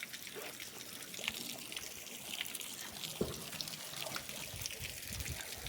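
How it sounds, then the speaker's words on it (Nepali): Spring water runs from five stone spouts at a rest stop on the Mundum Trek in winter. The flow makes a soft, continuous trickle and splash, faint and steady throughout. "5वटा धारा भएको ठाउँ हामी आइपुगेका छौँ"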